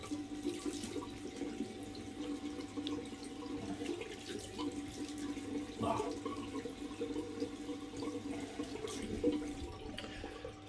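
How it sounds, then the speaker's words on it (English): Water running steadily from a tap into a sink while someone rinses their face, a faint continuous hiss and splash with a brief louder splash in the middle. "I'm just going to rinse my face."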